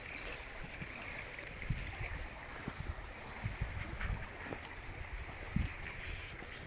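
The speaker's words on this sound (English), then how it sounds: "Love the sound of the water." Water flowing in a stream beside a public footpath near Janet's Foss waterfall, Malham, North Yorkshire, a steady broadband rush with faint scattered knocks, moderately quiet and continuous with no talk.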